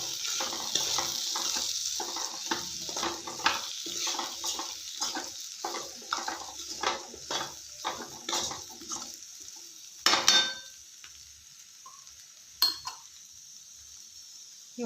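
A utensil stirs green beans palya with peanut powder in a pan, giving a run of rhythmic scraping and clinking strokes with a faint sizzle, then a few sharper metallic knocks near the end.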